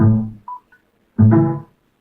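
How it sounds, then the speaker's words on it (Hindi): Keypad dialing tones on a Samsung J2 SM-J200F phone: a couple of short beeping tones sit between two louder, longer tonal bursts, close and clear with no talk. "तो अब आपने डायल करना है"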